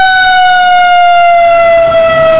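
Toy fire truck siren sounding loud and close, a steady electronic wail held continuously on a single slowly falling tone, alone without talk.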